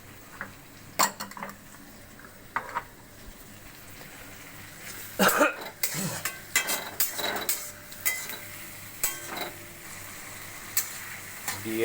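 A water-mixed spice paste sizzles in a kadai alongside onions for a vegetable and fish-head chorchori, with a constant frying hiss under repeated spatula scrapes and metallic clinks of stirring.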